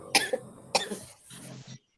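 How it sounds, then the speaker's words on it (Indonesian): Two short, close coughs come a little over half a second apart, each a sharp burst, followed by a softer low throat sound before silence. "Batuk lagi."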